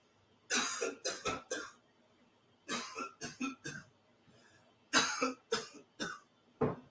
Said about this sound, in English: Instead of saying mo, mo, mo, I was coughing 3 times